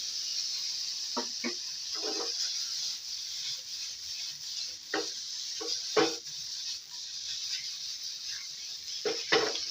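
Pork with basil and garlic stir-frying in a small wok gives a steady close sizzling hiss, broken by several sharp clanks of a utensil scraping and striking the pan, with no talking.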